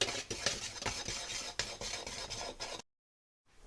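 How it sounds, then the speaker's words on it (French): Dry ingredients with salt and baking soda are stirred briskly in a bowl for chocolate cake batter, giving a steady scraping rhythm with regular louder strokes before stopping abruptly, followed by near silence. "je vais mélanger les ingrédients secs"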